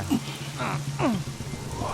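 Rain falls steadily as a constant patter beneath people talking nearby, with the voices rising over the wash of the rain.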